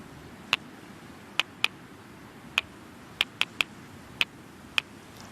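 Two rocks are knocked together to imitate a stonechat's alarm call, giving about nine sharp, dry clicks spaced irregularly over several seconds against faint outdoor background.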